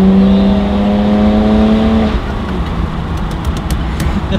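A BMW 325i with an N53B30 engine and a modified exhaust with altered NOx catalyst and middle silencer revs loudly up close, holding a droning tone before dropping back to a rough idle rumble.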